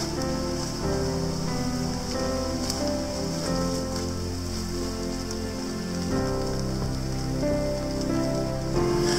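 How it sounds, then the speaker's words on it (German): Steady, dense rain falls through the jungle, a loud continuous wash of drops hitting leaves and surfaces, unbroken for the whole stretch with no voices. "Es hat inzwischen angefangen zu regnen."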